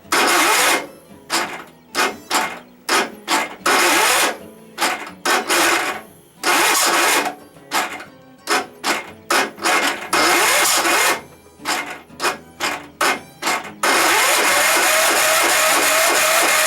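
A Tecumseh OHV small engine is cranked over and over, sputtering and kicking back in repeated bursts separated by short pauses, then catches and runs steadily and loudly for the last few seconds.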